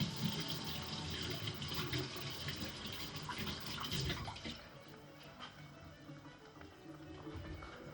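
Tap water runs steadily into a sink while hands are washed in a home kitchen, a broad close splashing hiss that stays loud for about four seconds, then softens and continues more gently to the end with no talking.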